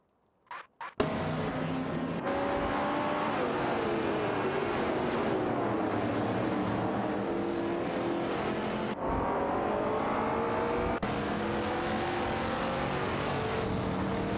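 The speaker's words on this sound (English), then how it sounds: "as they navigate through the winding track with precision and speed" Race cars in an AI racing video game roar continuously at steady high revs, loud and close, with a couple of abrupt engine note changes after a brief quiet start.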